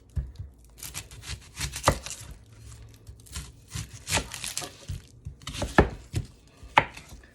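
An onion is chopped on a board with a knife, making a run of close, crisp, irregular cuts that come in short clusters.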